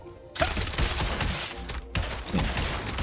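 Crossbow skill rapid shots in Throne and Liberty: two dense bursts of quick mechanical shots fire back to back, each a loud and harsh volley with a short gap between them.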